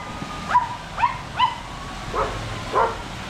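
Several dogs bark at a house in the Munnar hills, five short, sharp, fairly distant barks spaced about half a second apart, then a pause before two more, over faint background hiss.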